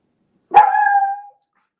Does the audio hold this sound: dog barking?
yes